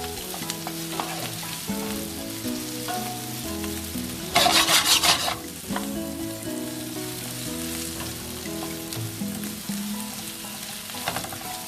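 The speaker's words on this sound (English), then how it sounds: "we're just going to toss those in the turmeric that's in the pan already, and the oil and the ghee" Salmon and prawns are stirred and tossed with a wooden spoon in a pan of turmeric, oil and ghee, sizzling steadily throughout with a louder burst of frying and scraping midway, under quiet background music.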